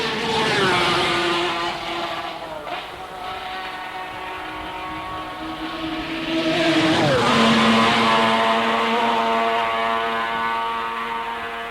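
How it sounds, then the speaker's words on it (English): TT race motorcycles thunder down Bray Hill on the Isle of Man, engines screaming loud and close with a rising then dropping pitch as each bike blasts past, one after another in a sustained roar. "The sound of the bikes going down Bray Hill"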